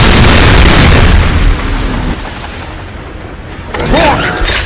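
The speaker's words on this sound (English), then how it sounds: "Explosives are the trigger, but gravity will do most of the work." Explosive charges detonating in the video game Damnation: a loud, broad boom opens the clip and rumbles on for about a second and a half, then settles into a lower roar before a second burst of noise near the end.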